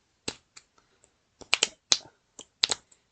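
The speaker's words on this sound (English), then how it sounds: "So you can see I'm a horrible card shuffler" Playing cards being shuffled clumsily by hand, a handful of sharp, dry riffling clicks and slaps in uneven bursts, close and fairly quiet with silence between.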